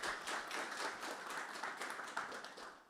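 Audience applause after a conference talk, a dense steady clapping from a crowd lasting the full three seconds at moderate distance.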